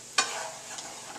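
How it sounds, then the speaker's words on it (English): Onion and zucchini sauté in a pan with a steady soft sizzle, opened by one brief scrape of a stirring utensil and a faint second scrape later, no talk. "Now I have my onion and my zucchini sauteed in here."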